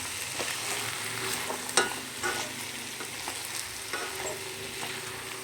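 Boiled potatoes are stirred into a frying tomato masala in a pan, giving a soft steady sizzle with several sharp spoon scrapes and clinks against the pan, close and quiet with no talk.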